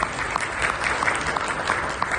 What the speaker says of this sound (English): So can we just give a round of applause for our panel?